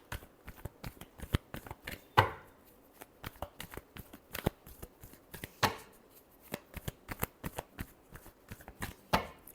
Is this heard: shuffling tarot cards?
yes